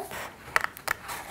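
Scissors snip paper a few times in quick succession, crisp close cuts through a sheet for a paper flower collage's stem, with quiet pauses between and no talking.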